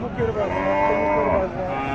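A cow at the Dhelapi livestock market in Saidpur gives a long, loud, close moo that lasts nearly two seconds, with faint market bustle behind it.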